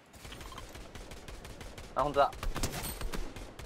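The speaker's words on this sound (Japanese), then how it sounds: "まだ上から撃たれてる" Gunfire in the video game Fortnite crackles in rapid bursts of shots during a match, with a sharper volley partway through and a player speaking briefly over it.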